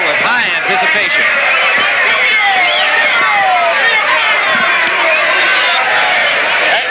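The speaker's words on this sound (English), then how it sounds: "a very live crowd awaiting the start of this bout with high anticipation" A lively crowd roars steadily before the Camacho versus Limon boxing bout, loud dense arena hubbub with shouting, continuous throughout with no pauses.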